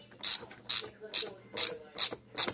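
A gear puller works on a stuck wheelchair tire, pulling it off its shaft with six evenly spaced ratcheting clicks, each a crisp metallic burst about every half second, fairly close and fairly quiet.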